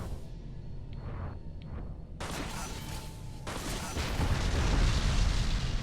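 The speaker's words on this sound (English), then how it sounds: "That was a lot of explosions." Loud booming blasts and crackling bursts from a video game, growing denser toward the end over a steady rumble.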